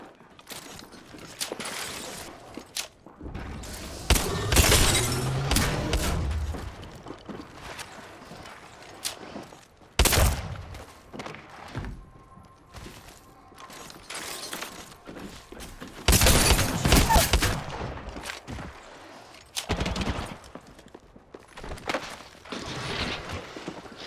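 Gunfire from weapons in the shooter game Apex Legends, sounding as sharp bursts and rapid volleys that come and go across the stretch, with loud clusters of shots between quieter gaps.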